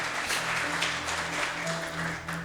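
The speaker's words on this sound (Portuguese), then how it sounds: "Vamos na salva de palmas para Jesus?" A church congregation claps together in praise during a worship service, the brief applause moderately loud under sustained music tones, with no speech.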